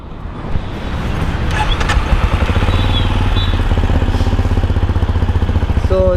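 Stock exhaust of a Benelli Imperiale 400 motorcycle idling on a city street, a steady, loud, close low-pitched thump with rapid even pulses that rises slightly after the first second and holds throughout.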